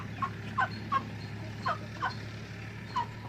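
A Bhimavaram breed hen gives short, faint clucks in scattered pairs against a steady low hum. The clucks are quiet and spaced out, and no voices are heard.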